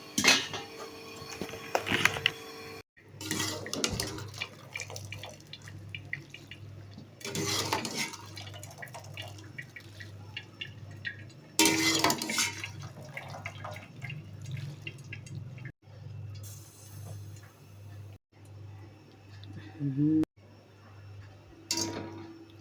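Boiled macaroni is drained and rinsed under cold water in a kitchen sink, with intermittent running and dripping water, clinks of a metal pot and utensils, and brief gaps of quiet, all close and fairly soft.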